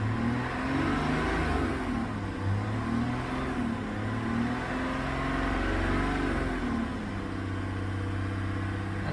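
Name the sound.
GMC Yukon engine revving while parked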